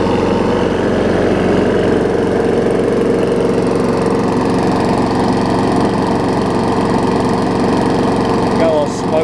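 A Weed Eater 20-inch lawn mower with a transplanted engine runs steadily and loudly up close, a constant droning rumble throughout with no breaks.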